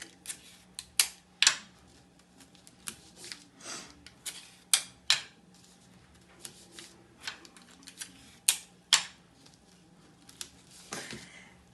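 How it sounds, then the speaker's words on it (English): Sheets of computer paper being taped together, with sharp, scattered crackles and tearing snaps of tape pulled off a roll and pressed down, loud close transients separated by quiet gaps, no talking. "you're going to tape it down the middle"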